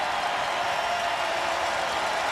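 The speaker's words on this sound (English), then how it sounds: "The crowd gets into it." A football stadium crowd at a CFL game, Toronto Argonauts at Hamilton Tiger-Cats, roars in a steady, dense wash of cheering with no distinct breaks.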